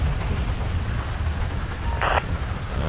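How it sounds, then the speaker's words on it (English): Rain falls steadily in GTA 5 with the LSPDFR mod, a constant hiss with a low rumble beneath it. A brief tonal blip cuts in partway through, and no one speaks. "As you can see, we are out here in the rain"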